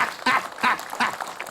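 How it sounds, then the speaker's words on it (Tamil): A group of children and adults at a kids' TV show give a round of applause in short bursts of clapping, with some cheering mixed in. "ஒரு பெரிய கைத்தட்டல்"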